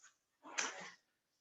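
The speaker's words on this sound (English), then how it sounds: "I can see a dog just joined the lesson." A dog gives a faint, brief whine or soft yip, followed by a short nasal vocal burst of about half a second, quiet and somewhat distant during a yoga lesson.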